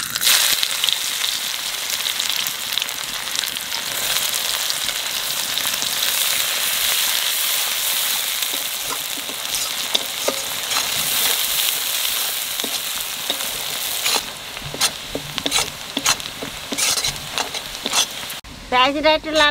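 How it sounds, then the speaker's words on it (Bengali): Onions frying in hot oil with cumin, a loud continuous close sizzle with occasional stirring scrapes, ending in a brief clatter. "পেঁয়াজটা একটু লাল লাল করে ভেজে নিছি"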